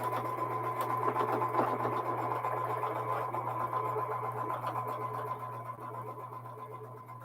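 A sewing machine stitching fabric while quilting blocks, a fast steady mechanical whir and rattle that runs continuously, close and moderately quiet, easing slightly toward the end.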